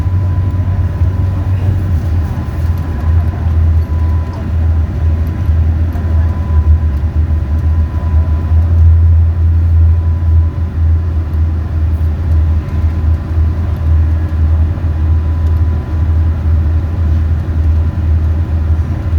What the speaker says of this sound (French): En face, c'est les voitures qui vont dans l'autre sens.